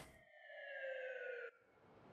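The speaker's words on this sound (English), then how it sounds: "The fucking ambulance sound." A single drawn-out ambulance siren tone from the video game Yakuza 0 sounds loud and steady for over a second, then cuts off abruptly.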